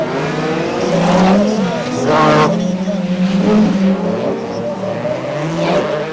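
BMW and Citroën AX race cars roar around an ice track at Val Thorens, engines revving and shifting in waves while a commentator's voice runs over the racing noise.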